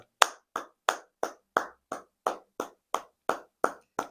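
A church congregation applauds Jesus Christ in rhythmic, unison claps. About twelve sharp, evenly spaced claps land at a steady beat, with clear silence between each one.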